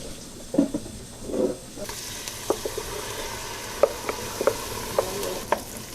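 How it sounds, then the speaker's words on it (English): Chopped onion, garlic and chili frying in oil, a steady close sizzle with brief bursts of stirring and scattered sharp spatters and pops, no talk. "we're gonna cook that in the oil and throw in the chili"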